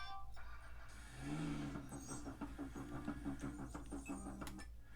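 A truck in the video game Grand Theft Auto V starts up and drives off, its engine rising into a rhythmic, pulsing revving drone that stays steady and moderately close, with no talking.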